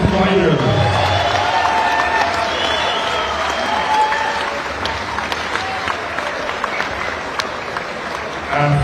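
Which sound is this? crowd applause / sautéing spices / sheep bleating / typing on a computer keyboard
crowd applause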